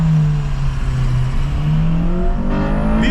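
An Acura RSX engine revs hard up into VTEC, a loud, steady, rising drone heard from inside the car that climbs in pitch over a few seconds with no pause.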